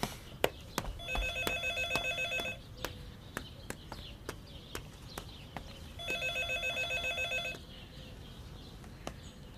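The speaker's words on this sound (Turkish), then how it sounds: "Dilara, telefon." An old landline telephone rings in two long trilling bursts, bright and repeated, with quiet clicks and room noise between the rings.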